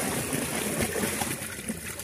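Carp released into muddy water, giving a brief splash and gurgle with trickling water close by, no speech.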